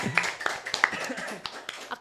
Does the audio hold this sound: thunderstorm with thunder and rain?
no